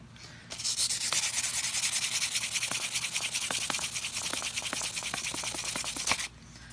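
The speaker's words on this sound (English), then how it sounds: "This is 800 grit sandpaper. Just trying to clear off the top there." Close scratchy strokes of 800 grit sandpaper on a part of a Cold Steel TiLite VI pocketknife, rubbing steadily and rhythmically with no talk, starting after a short pause and cutting off abruptly near the end.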